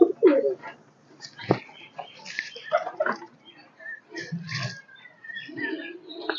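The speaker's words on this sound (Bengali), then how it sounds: "সেলের জন্য অনেক পায়রা রয়েছে" Pigeons kept for sale coo in low, throaty bursts among chirps, rustles and a few wing flaps, close and intermittent, with a voice speaking between the calls.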